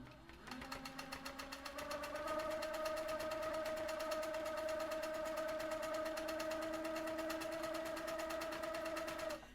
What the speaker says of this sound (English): the needle goes up and down a few times before you move on to the next direction